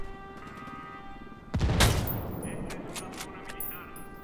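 Gunfire at an enemy sniper in the video game Ghost Recon Wildlands: one sharp, loud shot with a booming tail, fading over a couple of seconds, followed by faint scattered pops.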